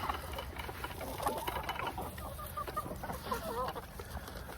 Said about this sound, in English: So now the chickens are going to come right up next to me.